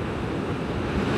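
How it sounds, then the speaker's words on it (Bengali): Roaring sea surf on the beach at Cox's Bazar, a steady close wash of breaking waves mixed with wind buffeting the microphone, continuous and loud with no talk. "বসে আমরা সমুদ্রের গর্জন শুনছি।"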